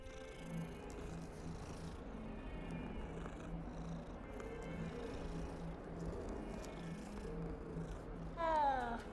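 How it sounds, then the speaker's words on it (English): A cat in a video game purrs softly and steadily for several seconds, then lets out a short, rising meow near the end, all at a low, close level. "Oh, kitty, kitty, meow, meow"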